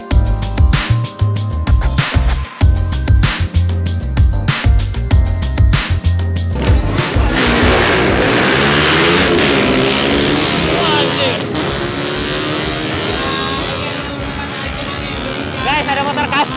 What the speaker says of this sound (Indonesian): Pertama kali gue ikut drag race nih.